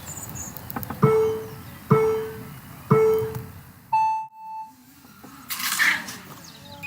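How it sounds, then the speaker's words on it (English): Three evenly spaced low race-start beeps followed by a longer, higher beep, over a rumble of background noise with a burst of hiss afterward. "So, on the beeps!"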